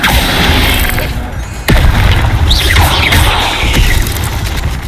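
Incendio fire spell cast in Hogwarts Legacy, heard as a sudden loud whooshing burst followed by crackling fiery bangs and sweeping whooshes over steady background rumble.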